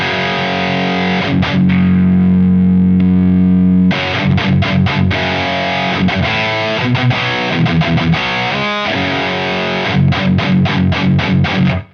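An electric guitar plays heavily distorted chords and palm-muted riffs through a Revv G3 distortion pedal in red mode, thick and loud, with sustained chords broken by short choppy rhythmic stabs.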